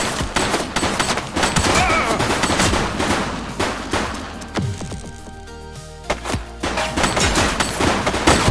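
Rapid bursts of video game gunfire during a sheriff's criminal chase, loud machine-gun fusillades rattling nearly continuously, with a brief lull before more shots and impacts resume up close.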